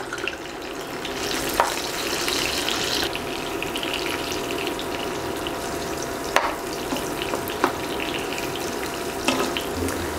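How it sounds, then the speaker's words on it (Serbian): Eggplant slices frying in hot oil in a pan that was just used for meat. A steady, fairly close sizzle and crackle runs throughout, with a few sharp clinks and spatula taps. No one speaks. "Sada na tom istom ulju pržim plavi paradajz."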